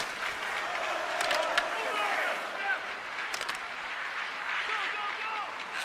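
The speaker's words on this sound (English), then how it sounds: "you can feel the energy in this crowd" A video hockey game's arena crowd roars and cheers in a steady, dense wash of noise with some scattered clapping, while a commentator talks over it.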